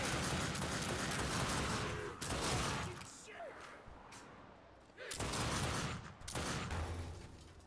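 Gunfire in The Darkness 2, loud dense bursts of automatic shots close up, broken by short pauses before fresh volleys resume, forming a rapid fusillade with no voices over it.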